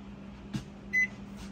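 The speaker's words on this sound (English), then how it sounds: "Microwave right quick." A microwave oven runs with a steady low electrical hum, broken by a soft knock and a single short beep, with no voices.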